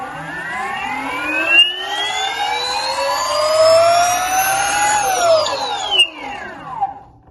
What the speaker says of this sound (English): And then of course, motor idle, motor on.